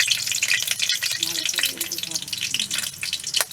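Onions with a pinch of salt sizzle steadily in hot oil, a dense close crackle with occasional stirring scrapes and faint background voices.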